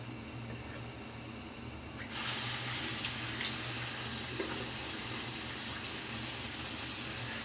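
Tap water runs steadily into a sink for rinsing during a shave with a Merkur Super Platinum blade, starting quietly and then gushing louder after about two seconds and continuing evenly to the end.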